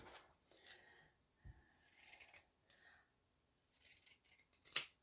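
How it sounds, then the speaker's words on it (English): Pinking shears cut through fabric in several crisp, close crunching snips, separated by short pauses, ending with one sharper, louder cut. "Oh, don't you just love pinking shears?"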